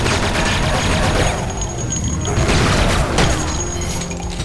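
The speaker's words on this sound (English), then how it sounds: "Just keep shooting back." Gunfire and explosions in the shooter game Duke Nukem 3D, a dense continuous barrage of booming blasts and crashes, loud and close with no talking.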